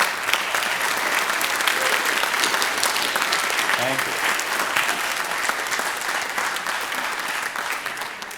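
Audience applause fills a meeting room for leadership standing up at a music department informational meeting, steady and dense for several seconds, with a brief spoken thanks heard over it.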